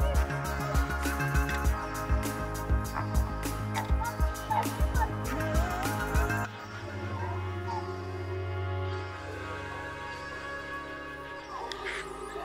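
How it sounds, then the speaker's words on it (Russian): Geese in an animal pen at the Biosfera eco park in Kaluga call in a dense run of honks for about six seconds, then the calls drop to sparser, quieter cries over a steady outdoor background. "Это гуси."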